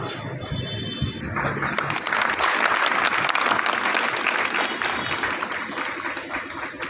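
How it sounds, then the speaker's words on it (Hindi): An audience at an inauguration ceremony held by a public welfare foundation trust breaks into loud, sustained applause, a dense crackle of many hands clapping that swells after a second and continues steadily, with some talk faintly under it. "अपने अतिथियों के सम्मान में तालियों की गरजाहट कम नहीं होनी चाहिए।"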